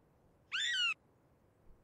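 A single short, bright gull call in the video game UnReal World, with a wavering, harmonic tone, lasting under half a second, loud against a quiet background.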